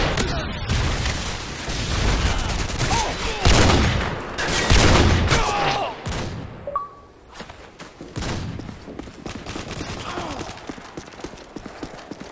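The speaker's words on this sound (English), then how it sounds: "Predator missile incoming." Rapid gunfire and explosive booms in a Call of Duty–style multiplayer match with an incoming Predator missile, dense loud cracks clustered in bursts with a few heavier impacts, then thinning to scattered shots.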